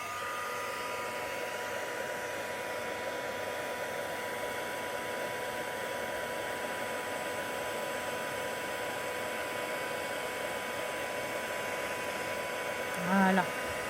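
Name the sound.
heat tool blowing hot air for crafting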